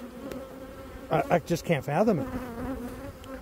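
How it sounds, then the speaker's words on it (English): Dense honeybee buzzing from an opened hive during a walk-away split, a continuous close hum, with someone speaking briefly over it in the middle. "there are so many bees in this business"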